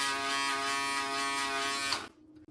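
A Wahl Compact Shaver electric shaver buzzes steadily up close for about two seconds, then switches off, leaving faint handling noise.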